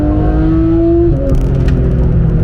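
A Porsche 991 GT3 is driven on the Nürburgring. A loud, steady engine drone holds close, with one pitch drop partway through and faint rattles over the continuous roar.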